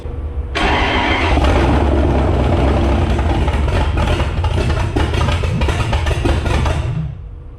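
A drag car built for the Duct Tape Drags fires up with a loud crank and catch, then roars and revs steadily up close for several seconds before cutting off.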